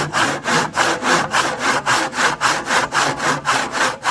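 A hand saw finishing a cut through a wooden joint: steady, rhythmic back-and-forth rasping strokes, about two per second, loud and close, with no voice over them.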